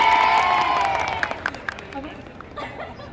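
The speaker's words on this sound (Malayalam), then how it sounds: "അതിന് നിങ്ങൾ എല്ലാവരും എനിക്ക് വേണ്ടി കൈയടിക്കണം" Audience at a Malayalam stage event with Dhyan Sreenivasan claps and cheers, a loud burst of crowd noise that fades over a few seconds, with scattered individual claps and murmuring chatter trailing off.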